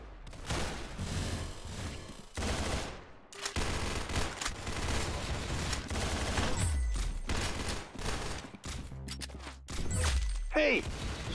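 Dense, rapid gunfire from the video game Arsenal, bursts of automatic shots with brief gaps and smashing impacts, loud and continuous.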